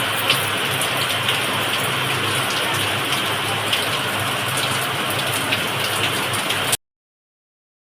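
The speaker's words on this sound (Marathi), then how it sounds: "बघा आता तर खूप मोठा पाऊस आला" Heavy rain pours down in Jammu and Kashmir in a steady, dense roar, close and loud, then cuts off abruptly near the end.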